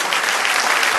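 Applause from a church congregation during a Spanish-language sermon, a dense, steady wash of clapping that fills the whole short stretch without letting up.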